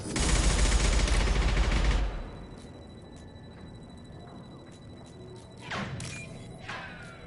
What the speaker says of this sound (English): bullets flying past my face